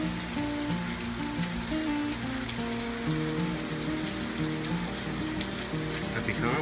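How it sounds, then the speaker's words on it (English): Steady rain from Tropical Storm Cindy falls around a second-story balcony, a constant close patter and splash on surfaces, with faint tonal sounds in the background and no talking. "it is just steadily raining"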